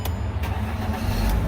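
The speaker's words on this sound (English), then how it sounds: "Let me start the car now." A Mercedes car engine cranks and catches, a short close start with a brief whir settling into a low steady idle rumble, heard alone without voices.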